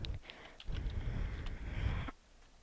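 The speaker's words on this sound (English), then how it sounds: "You're gonna have to do the keyboard shortcut." Computer keyboard keys pressed for a copy shortcut, a few close, sharp clicks over a low background hum that drops away near the end.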